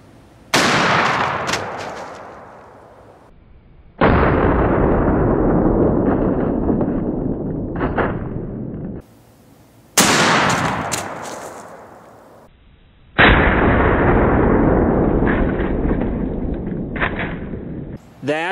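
A 12 gauge Foster slug is fired into a ballistic gel block from 20 feet; four loud, sharp blasts ring out in turn, each trailing off in a long, booming decay with no talk over them.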